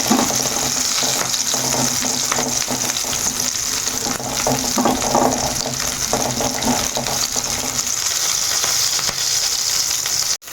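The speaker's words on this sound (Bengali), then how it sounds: "আমি পেঁয়াজটাকে খুব বেশি লাল করে ভাজবো না, তাহলে বেশি পুড়া পোড়া ভাব চলে আসবে" Onions sizzle and fry loudly and continuously in a pan for lentil dal, a dense steady crackle close to the mic with no talking.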